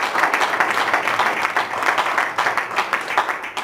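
A congregation at a European Easter celebration service claps in a fast, rhythmic pattern, dense and fairly close. The beat holds steady throughout with no break.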